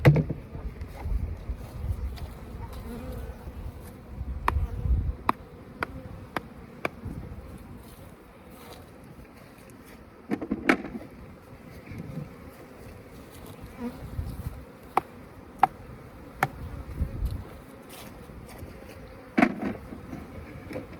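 Honey bees buzz around frames pulled from a hive with a drone-laying queen or laying worker problem, a steady low hum with individual bees zipping past the microphone and occasional knocks, continuing throughout without talk.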